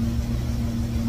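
A 1954 GMC COE truck engine idling as it warms up, a steady low mechanical hum with a firm droning tone and slight fluctuation, heard close and alone for a brief moment.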